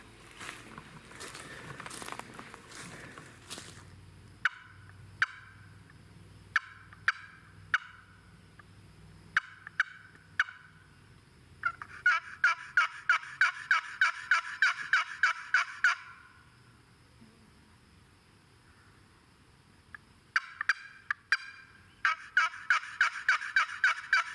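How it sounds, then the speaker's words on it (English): A wild turkey gobbles in a spring woodland in Maine, heard faint and distant as several short rattling gobbles between quiet stretches, alongside nearby crinkling, clicking handling sounds. "He just gobbled again."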